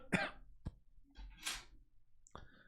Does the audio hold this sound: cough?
yes